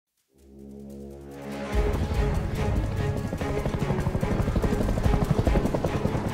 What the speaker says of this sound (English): This was the first time we've seen Heli, or even had the chance to tag it and take it.